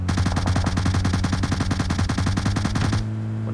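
Rapid automatic gunfire in the video game PUBG, a dense burst of evenly spaced shots lasting about three seconds, loud and close, then cutting off abruptly to a quiet background hum.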